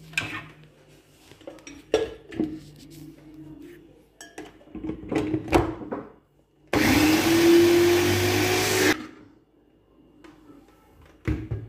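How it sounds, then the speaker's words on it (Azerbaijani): A kitchen blender whirs loudly for about two seconds with a rising motor whine while pizza ingredients are prepared, preceded and followed by clinks of dishes and utensils. "blenderdan çekirəm."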